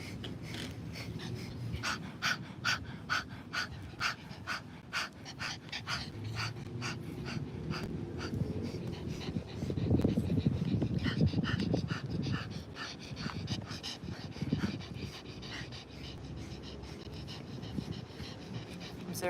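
Rapid yoga breath of fire: quick, forceful belly-pumped exhales in a steady, fast rhythm, close and continuous, building in intensity partway through.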